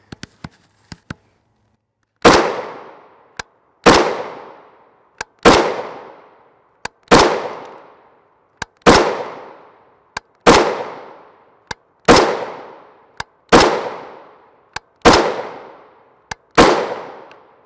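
Bullpup rifle firing 5.56x45mm M855 (SS109) 62-grain FMJ ammunition, about nine loud sharp shots spaced roughly 1.5 s apart, each with a long decaying echo, preceded by a few faint clicks.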